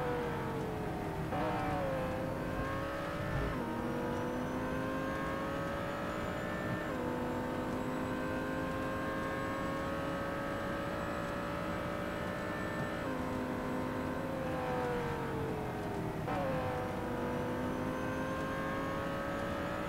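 A Porsche race car in an endurance racing video game holds a steady engine whine, its pitch climbing through each gear and dropping sharply at several shifts, with no voices over it.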